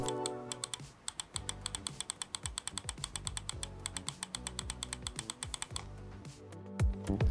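Side-button micro switches on a Cooler Master MM731 wireless gaming mouse click in a quick, steady train of crisp, close ticks, dozens in a row with a brief pause near the end.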